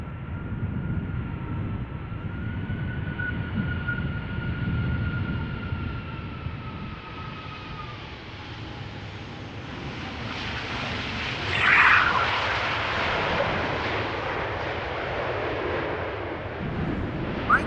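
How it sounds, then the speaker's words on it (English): A jet airliner departs at Amsterdam Schiphol Airport with a loud, sustained engine roar that rumbles and swells over the full stretch, heard from outdoors near the runway. "Departures will be taking place right from behind us."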